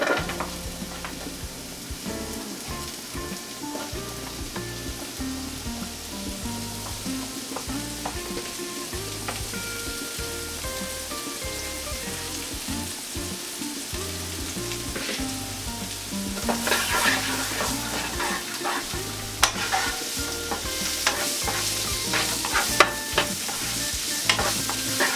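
Carrot and snow peas stir-fried for lo mein, with a constant crackling sizzle in a hot pan and repeated scraping, clattering strokes of a utensil that grow louder and busier toward the end, with no talk.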